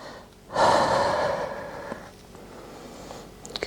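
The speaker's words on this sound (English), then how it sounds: "Give yourself a nice exhale." A single deep, breathy exhale during a yoga flow, rising suddenly, sustained for about a second and a half, then trailing off into quiet, close and fairly loud.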